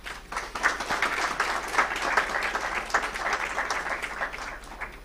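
An audience claps at a graduation convocation for a school of business management, dense, lively applause at moderate distance that continues steadily for several seconds.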